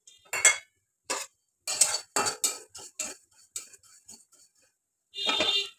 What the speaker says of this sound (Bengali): কড়াইতে তেল না দিয়ে শুকনো কড়াইতে এটা একটুখানি ভেজে নেব